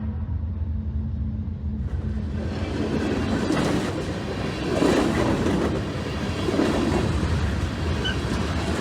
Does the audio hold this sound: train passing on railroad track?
yes